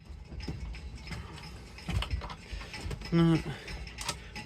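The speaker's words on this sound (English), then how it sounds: "It's a wheel puller." A wheel puller works a boat's steering wheel loose, giving close mechanical clicks, creaks and rattles with a short squeaky tonal groan near the end.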